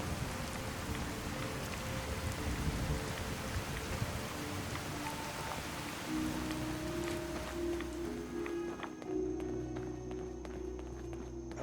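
Steady rain in Fallout 4 patters on surfaces for a while, then fades away, leaving a low ambient drone with scattered small clicks.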